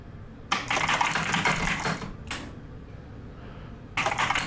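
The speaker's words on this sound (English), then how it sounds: "Ariana, your keyboard. You sound like you're at a 1990s Microsoft store" Computer keyboard typing close to a podcast microphone, with bursts of rapid clicky keystrokes separated by short pauses, loud and alone with no talk over it.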